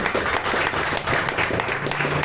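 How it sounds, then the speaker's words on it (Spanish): A church congregation claps loudly together during a Spanish-language service, a dense, close burst of many hands lasting a couple of seconds with a low hum underneath. "Démosle un fuerte aplauso al Señor, hermano."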